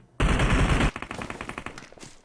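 Automatic gunfire in a video game: one loud, sustained burst up close, followed by a quicker run of lighter, evenly spaced shots.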